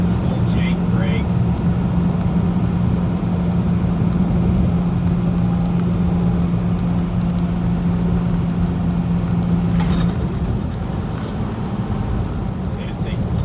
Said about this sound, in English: So I'm at 60 right now and full Jake brake.